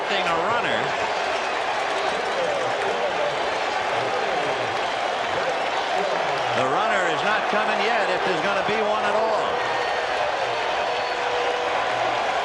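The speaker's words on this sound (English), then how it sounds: "This crowd has reason to cheer." Crowd noise at a packed baseball stadium during Game 6 of the 1986 World Series between the Boston Red Sox and New York Mets, a broad sustained roar with cheers rising and falling while a commentator talks over it.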